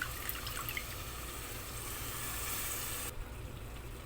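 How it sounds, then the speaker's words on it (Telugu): Water is poured into a pan of cut flat beans cooking in oil with chili powder for a curry: a faint, steady splashing pour lasting about three seconds, then stopping abruptly, with no talk. "ఇదిగోండి కొన్ని నీళ్ళు ఇలా పోసేసుకుంటే సరిపోతుంది"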